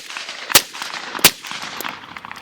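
A suppressed CZ Bren rifle fires supersonic ammunition at an outdoor range. Two sharp, loud shots land about 0.7 seconds apart, and a fainter third crack follows, over light background noise.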